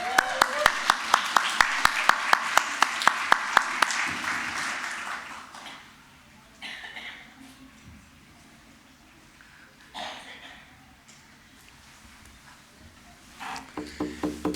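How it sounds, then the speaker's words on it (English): Rhythmic clapping from an audience at a university convocation ceremony sounds for about four seconds, then fades as a voice starts speaking. "While this is a formal ceremony, your cheering, support, applaud is very welcome."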